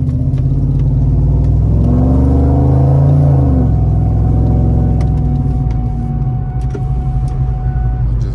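2002 Ford Mustang GT pulling away in traffic, a deep engine rumble rising as it accelerates and then settling into a steady drone, recorded from inside the car, loud and continuous with no speech.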